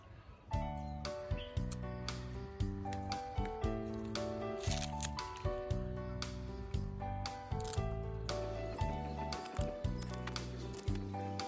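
Scallion (green onion) stalks being snipped, a steady series of crisp cuts repeating roughly every second over soft background music, close and moderately loud.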